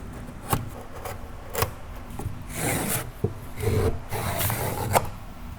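Carpet pieces being trimmed off on stairs while installing hybrid carpet, heard as a series of rough scraping and rasping cuts with a few sharper ticks, close by and moderately loud, with no talking.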